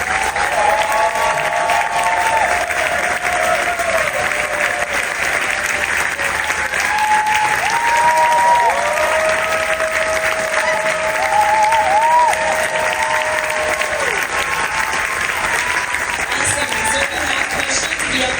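A large festival audience at a SXSW film Q&A applauds loudly and continuously as RZA comes out, with whoops and cheering voices rising over the steady clapping.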